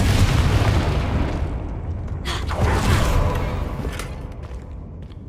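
The Confringo fire spell from Hogwarts Legacy bursts in a heavy, rumbling explosion with crackling debris, loud and sustained before fading out.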